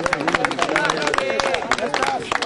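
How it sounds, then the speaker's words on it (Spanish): Parents clapping at a children's fishing tournament award ceremony, dense fast hand claps filling the clip, with an announcer's voice running over them. "Fuerte el aplauso, papás."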